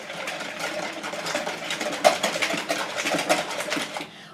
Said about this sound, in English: we're going to grab a whisk, and we're just going to poke the yolks to break them and mix up our eggs a little bit